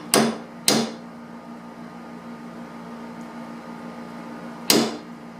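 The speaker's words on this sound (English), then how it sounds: "you're going to punch this into the wood" A hammer strikes a punch into wood on a desk build, three sharp, close knocks, two in quick succession and a third after a pause, over a faint background hum.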